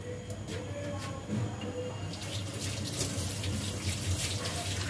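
Tap water runs steadily into a sink while garlic is rinsed for a meat yakhni pulao in a home kitchen, a continuous close splashing wash that gets slightly louder partway through.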